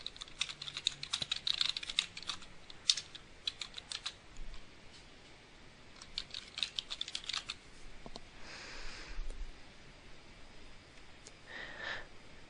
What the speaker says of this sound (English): Click on the page and type the text, Sir Robert Borden Lyons.